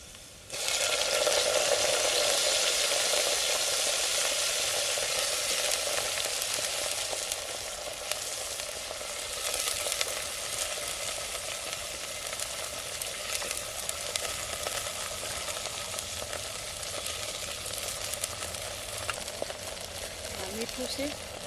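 Gunda leaves tumbled into hot oil with garlic fried until red and a pinch of asafoetida, a loud steady hiss that sizzles hardest at first and settles to a softer, continuous frying sound, with a voice speaking over it.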